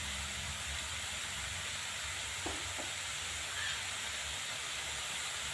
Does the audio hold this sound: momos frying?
yes